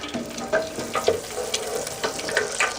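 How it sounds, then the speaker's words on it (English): Hot oil sizzles and crackles steadily in a pan, with scattered pops and faint stirring close by. "it sounds like our oil is hot"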